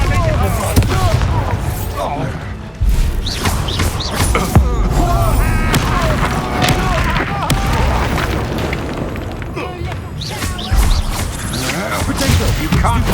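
Confringo blasting spells explode again and again in Hogwarts Legacy. Dense, loud bursts and booms sound without pause amid chaotic combat noise, and a voice shouts over them throughout.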